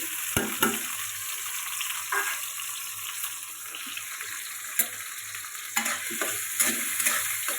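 Chopped onions frying in a pan for hilsa fish curry: a dense, bright sizzle with intermittent scraping stirs of a spatula, close and steady throughout.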